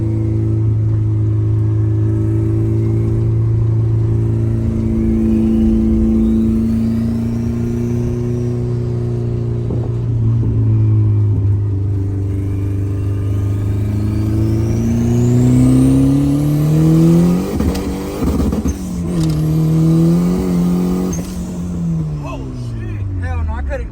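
A turbocharged Honda CRX engine revs and builds boost from inside the car, a loud droning tone that climbs and falls over and over while a faint rising whistle sweeps above it, with people talking throughout.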